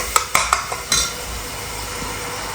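Kitchen being cleaned up after cooking a large meal, a few sharp clanks of steel pots and utensils in quick succession early on, then quieter background clatter, no talking.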